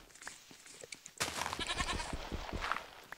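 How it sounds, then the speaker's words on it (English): Goats bleat in Minecraft, several short calls standing out over a busy game soundscape that grows louder and fuller partway through. "I found three goats"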